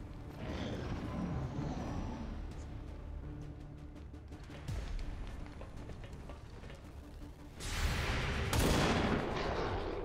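Overwatch rifle fire in the game XCOM 2 rings out as a rapid string of sharp gunshots and booming impacts, dense and continuous, with a heavier burst of blasts near the end and no talking.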